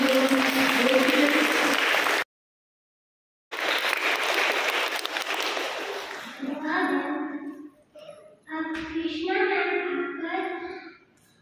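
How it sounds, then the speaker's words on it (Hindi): A burst of clapping from an audience at a school Hindi recitation event, cut by a brief silence, then resuming as voices speak over and between the applause. "इनको भी आप और जोरदार तालियां करिए"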